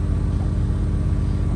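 A car on an icy road passes close by as a steady, loud low rumble that fills the whole moment without a break, with no voices over it.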